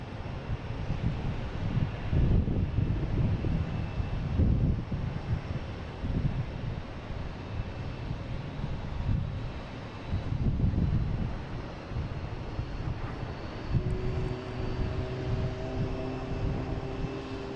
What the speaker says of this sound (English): we have American Airlines going to Phoenix and A321